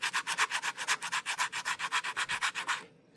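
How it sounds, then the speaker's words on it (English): A plastic Nintendo Switch 2 case being sanded down by hand, a steady run of rasping strokes in quick even rhythm, loud and close, stopping just before the end. "it seems like it's a well-built case, because it's really a pain in the butt to sand down"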